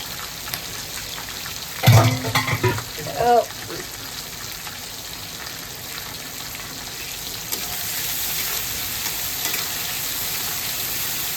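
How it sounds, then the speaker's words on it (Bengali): Pointed gourd and prawns fry in a pan, with a continuous close sizzle and a few clattering stirs, while a voice speaks briefly over it. "নেড়ে দিচ্ছি ভালো করে।"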